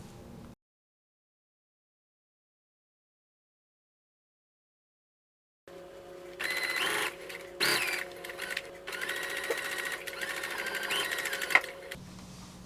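A sewing machine hums in a close, continuous run as it stitches a facing to the neckline of a beginner summer top, starting after a long silence and continuing to the end.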